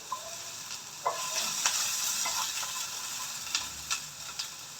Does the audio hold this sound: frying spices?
yes